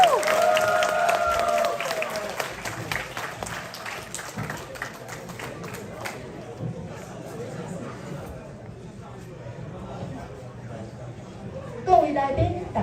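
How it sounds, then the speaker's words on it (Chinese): An audience at a Taiwanese-language poetry and song performance by a teachers' band claps loudly for about six seconds, then the applause thins into murmuring crowd chatter with a brief burst of noise near the end. "那我们再掌声一次吧。"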